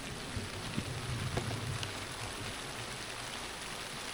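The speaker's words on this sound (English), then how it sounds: "It's just started raining again." Rain falls on a camper van as a soft, steady hiss with faint scattered drips and a low rumble underneath, even and unbroken throughout, with no voices.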